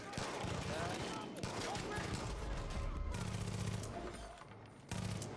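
Distant gunfire crackles in Far Cry 5 under a steady din of shooting and game ambience, quiet overall with occasional voices.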